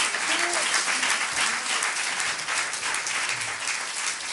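Theatre audience breaking into steady, dense applause, a continuous wash of many hands clapping at moderate distance, with faint voices mixed in.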